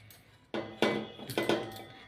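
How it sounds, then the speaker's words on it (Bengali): Soap bars cut into small pieces, heard as a few sharp close clicks and scraping knife strokes in quick succession, fairly quiet and without talk. "সব পিস পিস করে কাটছি।"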